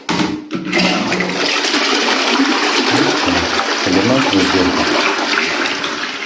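A household toilet cistern flushes and then refills, a steady loud rush of running water lasting throughout after a brief opening clunk, with no talk.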